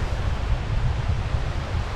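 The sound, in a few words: wind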